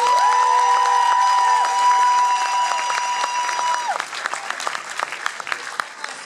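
An audience applauds performers at a stage show in Poprad, with dense clapping over sustained tones at first, then thinning into scattered, sharper individual claps toward the end.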